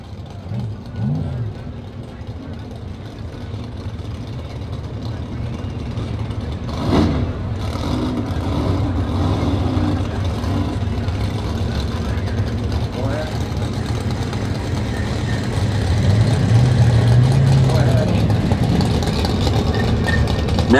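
A naturally aspirated Mountain Motor Pro Stock drag car with a Liberty shifter roars in a steady, loud, broadband drone that swells slightly toward the end, with an announcer talking over it.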